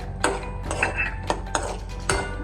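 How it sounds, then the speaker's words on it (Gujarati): A spoon scrapes and clinks repeatedly against a pan as cashews are stirred alongside almonds, a series of sharp close metallic knocks with rattling in between. "થોડીક લાલાશ પર આવે ને ત્યાં સુધી હવે આપણે કાજુ નાખી દઈએ અંદર."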